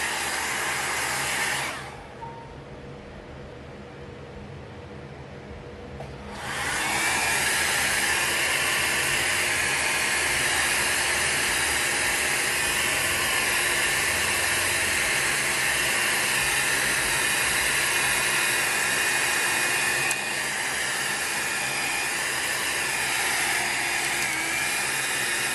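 A heat tool blows a steady, loud stream of air over alcohol ink on holographic sticker film, switching between cool and heat settings. The roar dips to a softer hiss for a few seconds early on, then resumes at full strength.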